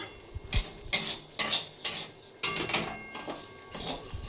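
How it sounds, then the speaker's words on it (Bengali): Matar dal lightly frying in a pan on a home stove, stirred with a utensil that gives a series of sharp, fairly regular scrapes and clinks against the metal, close and moderately loud over a faint continuous background, with no talking. "আর একটা ডাল আছে, মটর ডালও আছে, তো এটা একটু হালকা ফ্রাই করে নিই।"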